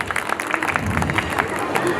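Crowd applause and clapping greet Shri Satish Verma at a Virat Hindu Sammelan gathering, a steady dense wash of many hands lasting throughout with a murmur of voices underneath.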